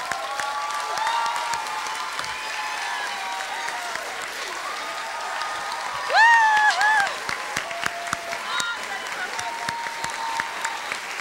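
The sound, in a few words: audience applause for Ève Lafontaine at gala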